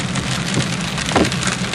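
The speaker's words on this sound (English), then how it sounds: "it's supposed to be raining like this for a week straight" Heavy rain pours steadily in Florida, a dense, continuous hiss of drops drumming on surfaces close by, with no voices over it.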